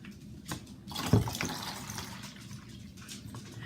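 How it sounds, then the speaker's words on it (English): Water poured from a pyramid-shaped container into a prism-shaped container, a brief close splash and gush followed by a settling trickle, with no talking. "I'm going to put another whole pyramid full of water into my"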